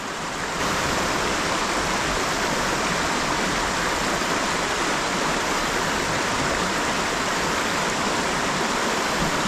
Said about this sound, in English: I want to throw it over here in the rapids on the right